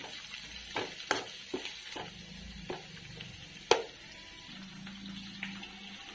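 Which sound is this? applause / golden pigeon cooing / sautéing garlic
sautéing garlic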